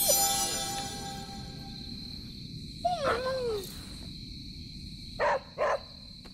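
A dog named Charlie in the video game Marvel's Midnight Suns gives a rising whine, then two short, close barks in quick succession over a steady background hum.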